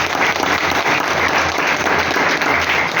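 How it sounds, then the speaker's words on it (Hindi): A hotel audience at a direct-selling achievers' day event bursts into loud, dense applause that holds steady throughout, many hands clapping together at close range. "एक जोरदार तालियां चाहिए।"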